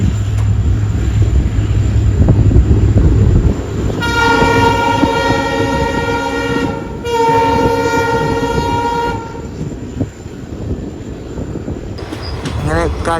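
A local train in Karnataka pulls away after the signal, its horn sounding in long loud blasts over the rumble and clatter of the moving carriages, heard from close by.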